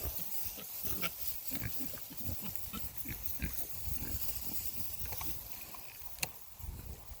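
Boars on a farm grunt repeatedly while chasing each other, low rough snorts coming in an uneven rhythm over a steady outdoor background.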